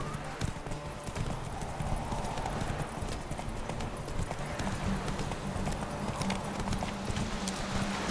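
Horse galloping in The Witcher 3, with a continuous run of rapid clip-clop hoofbeats over game ambience and an occasional faint whinny.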